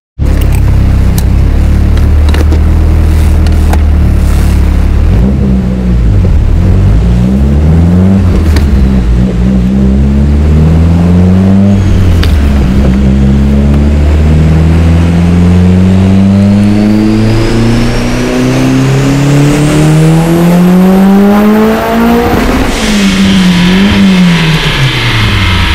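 A turbocharged 1G DSM engine with 276 cams, 1200 cc injectors and a Walbro 450 fuel pump pulling at full throttle on 28 PSI boost, very loud rising revs through several gear shifts, each followed by climbing pitch.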